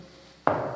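A wineo 400 multi-layer vinyl floor panel on an HDF core being tapped into place with an installation aid, a single sharp knock close by in a quiet room.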